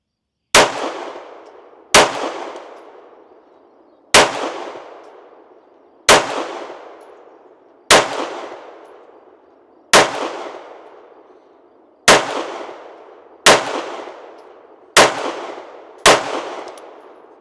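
Handgun shots striking steel targets outdoors, ten sharp cracks each followed by a ringing metallic clang that fades, spaced about two seconds apart and tightening toward the end, with no talking.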